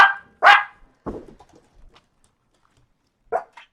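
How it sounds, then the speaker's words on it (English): Several dogs bark in short, loud bursts near a person working on a cut-flower-free wreath on a large board, two sharp barks up front, then scattered quieter yaps and one more bark after a pause. "these dogs."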